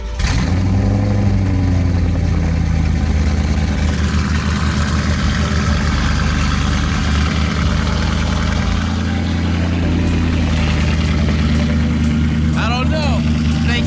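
BMW M3 fitted with a full exhaust runs at a steady, loud idle, with a sharp burst at the start and a deep continuous drone throughout, with a brief faint chirp near the end.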